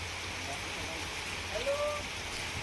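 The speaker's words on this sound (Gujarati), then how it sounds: "અસહ્ય ઉકળાટ બાદ ધોધમાર વરસાદની શરૂઆત થઈ છે" Heavy monsoon downpour over Surat city after oppressive heat, a steady broadband hiss of rain that stays constant throughout, with a faint brief tonal sound near the middle.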